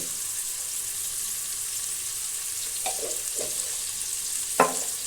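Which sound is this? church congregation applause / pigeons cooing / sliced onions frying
sliced onions frying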